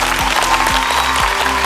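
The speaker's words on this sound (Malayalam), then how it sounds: "ഒരു ഉഗ്രം കൈയടി എല്ലാവരും ചേർന്ന്." Studio audience on a Malayalam TV game show bursting into a short, loud round of clapping, dense and steady with no voices over it.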